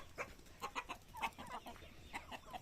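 Darag native chickens cluck in short, repeated bursts, faint and fairly close, in an uneven rhythm of soft calls with no talking.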